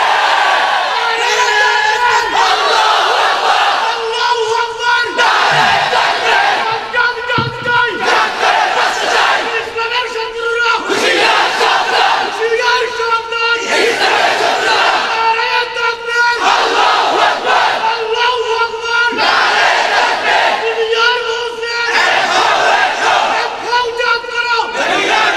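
A large crowd at a Bangladeshi religious gathering chants Allahu Akbar in loud, rhythmic unison, each call rising and falling in steady repeated waves for the whole stretch.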